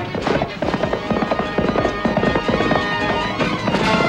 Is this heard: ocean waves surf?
no